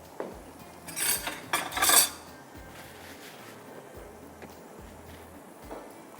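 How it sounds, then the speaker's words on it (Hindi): A spoon is stirred in a pot while a mutton darbari is made, giving a cluster of bright metallic clinks and scrapes near the start, then quieter, close stirring against a low, steady background hum. "बस ये चम्मच चला लीजिएगा ताकि ये मिक्स हो जाए"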